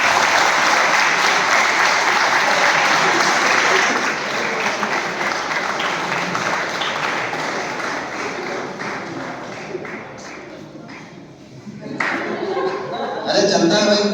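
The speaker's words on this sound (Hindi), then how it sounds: "तालियां रुकनी नहीं चाहिए।" A crowd applauds during a speech event for RRB exam results, loud, steady clapping that eases off midway and swells again, with voices rising near the end.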